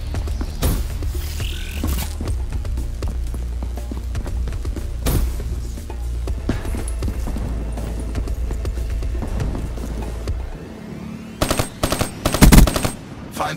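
Combat in Call of Duty: Black Ops III brings scattered gunshots and mechanical clatter over a low rumbling bed for about ten seconds, then a louder cluster of sharp shots near the end.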